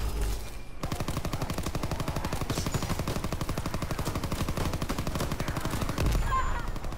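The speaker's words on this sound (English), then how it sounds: "Open fire!" Rapid automatic gunfire in a video game rattles loud and continuous for about five seconds after a brief lull, each burst packed into a fast, unbroken stream of shots.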